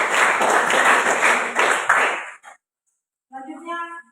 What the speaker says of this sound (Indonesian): Ya, kita berikan aplaus untuk